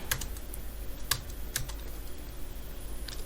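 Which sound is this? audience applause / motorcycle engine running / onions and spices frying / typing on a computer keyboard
typing on a computer keyboard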